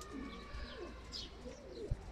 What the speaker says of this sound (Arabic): وحنا مازلنا ننتظر دخول الحمام من هاد المسابقة